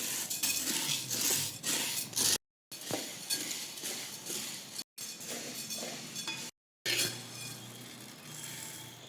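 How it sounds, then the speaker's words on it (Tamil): Chana dal is dry-roasted in a hot uruli pot, with soft rattling and scraping as the lentils are stirred and tossed against the metal in steady, moderately quiet bursts. "நம்ம முதல்ல கடலைப்பருப்பை வறுத்தெடுத்துக்கலாம்"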